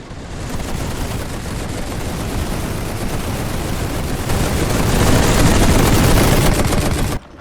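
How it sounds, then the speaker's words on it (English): Tanks open up with machine guns in a World War One strategy game, producing a dense, loud, unbroken rattle of overlapping gunfire that swells toward the end and then cuts off abruptly. "Machine gun tanks are opening up"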